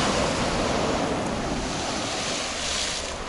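Storm waves surge onto a beach with a constant loud roar and wind buffeting the microphone.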